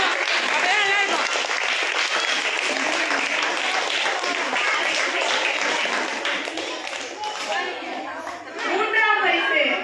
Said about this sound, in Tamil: கை தட்டிட்டே இருக்கணும்.